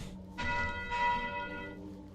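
Church bells toll in the video game Torment: Tides of Numenera, two clear ringing strikes with long humming overtones, moderately loud and alone.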